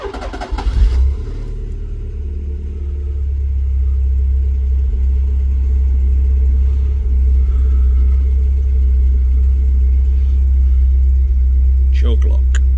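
A Ford Cortina P100 pickup engine, restarted after seven months of not running, idles with a steady, loud low rumble after a brief rev at the start, with a person speaking briefly nearby.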